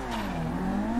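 Car in GTA V revving and launching off the line, a loud rising engine note climbing in pitch over about a second with a brief tire squeal at the start, with no talk.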